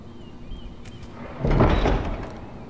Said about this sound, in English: That must be a really heavy door.